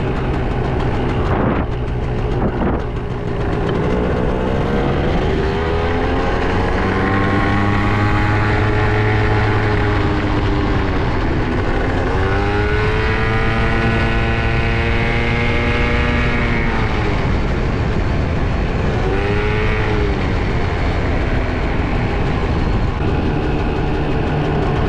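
A steady scooter motor drone, Italjet or Rieju 70, with a whining pitch that rises and falls as it speeds up and slows, loud and continuous throughout with heavy wind rumble.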